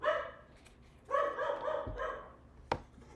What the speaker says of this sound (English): My dog is losing her shit, and I think Amazon's here or something.